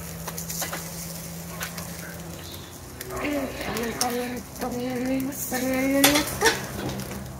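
Food being flipped and turned in a pan, with close metal clatter of utensil on pan over a light sizzle, while people talk and a faint bird call sounds nearby.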